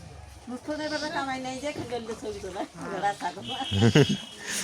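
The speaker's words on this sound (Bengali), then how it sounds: "কি ছাগল" Goats near a riverside boat landing let out several wavering bleats in quick succession, mixed with people talking close by.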